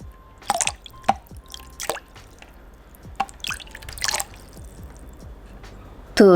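Water drips off a face during a foundation waterproof test, a handful of distinct close drips falling at irregular intervals over a quiet background, followed by a louder rustling at the end.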